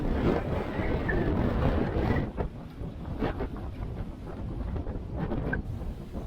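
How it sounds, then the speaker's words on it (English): Strong wind roars across a sailboat beating upwind at sea, buffeting the microphone with loud low rumbling gusts that ease briefly midway, with water and hull noise beneath and no talk. "Beating into a strong wind like this is no fun at all."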